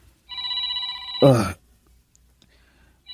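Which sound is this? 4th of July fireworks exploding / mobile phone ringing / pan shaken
mobile phone ringing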